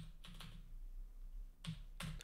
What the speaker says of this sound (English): then I'm going to type pip